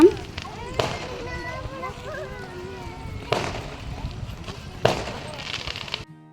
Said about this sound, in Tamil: வரும்போது வந்து வான வேடிக்கை விட்டுட்டு இருந்தாங்க